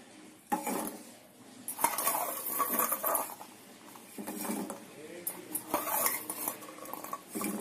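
Cooled gulab jamuns dropped one after another into hot sugar syrup in a metal pot, with clinks of a spoon against the vessel and soft splashes, close and moderately loud.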